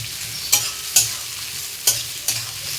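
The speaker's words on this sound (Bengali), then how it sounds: "পেঁয়াজগুলো লাল লাল করে ভেজে নেব।" Onions frying in a pan for an egg curry with bottle gourd, a steady soft sizzle broken by four sharp scraping stirs of a spatula, close and clear with no talking.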